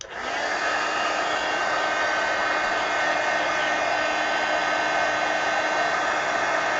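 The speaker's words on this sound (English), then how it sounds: "let me hit that with the heat gun" A heat gun blasts air to dry a painted mixed-media art journal page, starting abruptly and then holding a loud, steady, even roar close by for several seconds with no voices.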